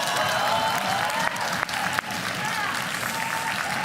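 A livestreamed Clash of Clans match draws a crowd applauding in steady, dense clapping for about four seconds, loud and continuous with a few sharper claps standing out and faint voices mixed in.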